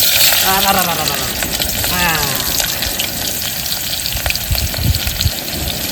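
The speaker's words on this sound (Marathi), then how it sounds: "कांदा मस्त आता आपण हलवून घेऊ." Onion and whole spices fry loudly in a pan while being stirred outdoors, a dense, steady sizzle with stirring scrapes and a person talking over it.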